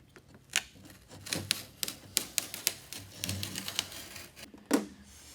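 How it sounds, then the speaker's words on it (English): Scissors or a craft blade cutting a triangle of material for a craft box make a quick series of sharp snips and taps, irregular and close, with no talking. "So you cut that while I'm cutting out this triangle."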